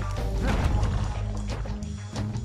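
Objects breaking apart in Bastion as the Kid smashes scenery: repeated crashing, thwacking impacts in quick bursts, loud and close over steady game ambience and music.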